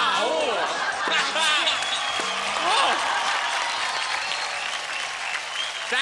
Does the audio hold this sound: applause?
yes